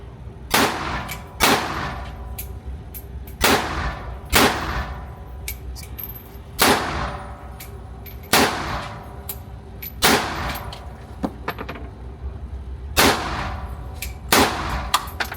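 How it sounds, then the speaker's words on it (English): Repeated AR rifle gunshots at an outdoor shooting range, each a sharp loud crack with a ringing tail, fired at a steady, unhurried pace about every one to two seconds. "I'll shoot the AR though, or I'll shoot it with you."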